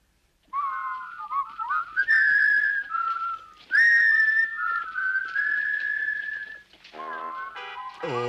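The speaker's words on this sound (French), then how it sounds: "Oh, quelle jolie chanson, j'aimerais savoir siffler." A person whistles a bright, wavering melody up close, holding some notes and sliding between others, ending with a quick trill.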